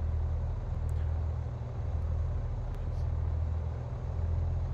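Twin engines of a Piper PA-44 in Microsoft Flight Simulator 2020 run at low idle during shutdown, a dense, steady low rumble with faint higher clicks, continuous and unchanging.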